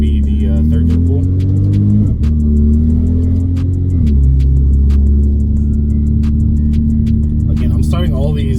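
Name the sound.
car engine accelerating in a third gear pull on E85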